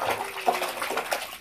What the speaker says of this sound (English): even as I'm just pushing the water, I can still get bubbles out of it.